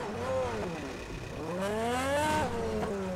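A car engine in Grand Theft Auto revs up and down in rising and falling sweeps, loud and close, with no one talking.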